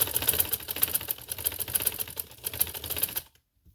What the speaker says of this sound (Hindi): अब फिर मैं यहाँ लाऊंगी इसको और इसके ऊपर सिलाई दे दूँगी